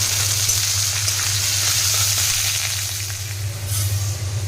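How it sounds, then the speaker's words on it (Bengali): Vegetables frying in a pan with curry leaves for a vermicelli semai snack, a steady close sizzle with faint stirring scrapes and a low hum underneath, no talk. "এরপরে আমি সবজি ভেজে নিচ্ছি আর কারি পাতা দিয়ে দিলাম। সবজিগুলো ভেজে নিচ্ছি ভালো করে।"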